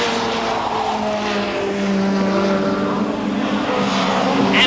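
Touring race cars, including a Ford Sierra, roar past on a British circuit, a steady high engine howl with shifting tones as the cars pass close by, with no commentary over it.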